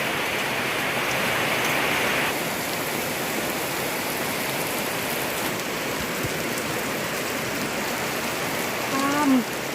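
Steady morning rain pours down in a dense, unbroken hiss that stays loud and even from start to finish, with no voices over it.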